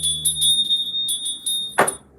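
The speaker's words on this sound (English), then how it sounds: "Let's have a bell." A small bell rings in bright repeated tinkling strikes with a sustained high tone, ending in a short louder clatter.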